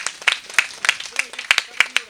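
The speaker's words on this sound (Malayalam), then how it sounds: "നല്ലൊരു കയ്യടി കൊടുക്കൂ." Scattered hand claps from an audience at a Navaratri festival gathering honour a memento presentation, sparse and uneven, with a person talking over them.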